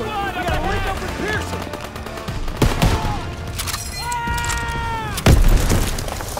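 Machine-gun fire and heavy booms in the Call of Duty: WWII battle at Hill 493 rattle continuously, with two loud impacts, under shouted soldiers' voices and whistling sounds.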